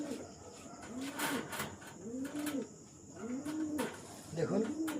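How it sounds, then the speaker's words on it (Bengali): Caged pigeons of the Yellow American and White American breeds coo softly, with four low rolling coos at a steady pace over a faint hiss of background noise. "এই 3টি পায়রা দেখেন, ইয়েলো আমেরিকান, হোয়াইট আমেরিকান, 3টে বেবি।"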